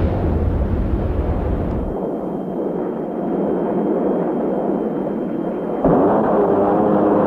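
A-10 Thunderbolt II 30mm cannon rounds striking a target make a loud, sustained roaring rumble that shifts abruptly partway through and then swells louder again.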